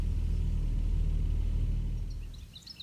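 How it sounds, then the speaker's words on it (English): Deep, sustained rumble of thunder from an approaching thunderstorm at a bush camp, loud and steady before fading away near the end, with faint birdsong at the close. "There's one of those thunderstorms coming in."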